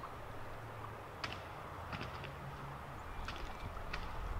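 Wild turkeys battling over a hen, wings beating in a few brief, sharp flurries spread through the clip, fairly faint against a steady outdoor background.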